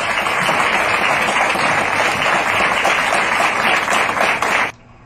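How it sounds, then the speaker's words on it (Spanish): An audience at a Spanish-language talk or class session applauds, a steady, dense roar of clapping that holds evenly for several seconds and then cuts off abruptly, with no voices over it. "creo que nos merecemos un gran aplauso"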